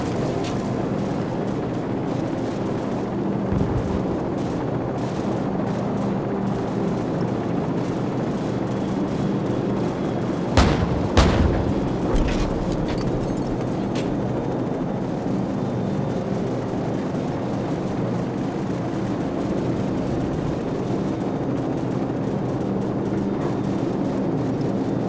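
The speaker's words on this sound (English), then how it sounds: "Friendly helicopters entering the area." Military helicopters thrum in a steady, loud rumble during a Call of Duty 4 battle on PC, with a short cluster of sharp gunfire or blast hits cutting through midway and no talking.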